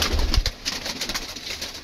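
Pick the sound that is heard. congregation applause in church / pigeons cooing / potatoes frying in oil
pigeons cooing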